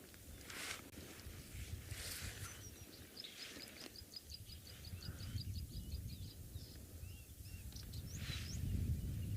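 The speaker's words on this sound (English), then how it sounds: "A black-chested prinia." A black-chested prinia gives a rapid series of thin, repeated high chips against steady low rumble and background ambience, with other birds calling faintly nearby at sunrise.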